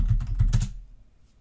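Login details typed on a computer keyboard: a short burst of three or four dull, close key taps, then quiet.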